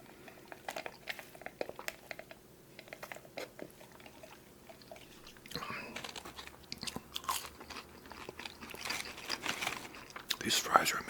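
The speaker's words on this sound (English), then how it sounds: "Lettuce is fresh and crunchy." Close, intimate bites and chewing of a double cheeseburger with fresh crunchy lettuce and sauce, irregular crunches and soft mouth sounds recorded near the microphone, growing denser toward the end.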